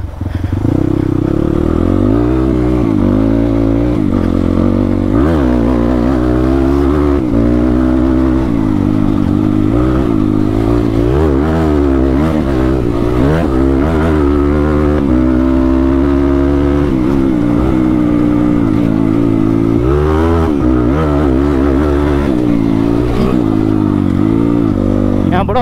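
Honda CX 250R dirt bike engine chugging and revving through a river crossing on a Pokhara enduro trail, steady loud mid-range drone with rising and falling throttle swells, riders talking over it throughout.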